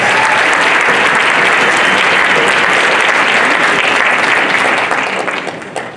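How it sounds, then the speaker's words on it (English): Loud, dense applause from a school orchestra and jazz band concert audience, sustained clapping that tapers off toward the end. "Let's give them a round of applause for the work they've done."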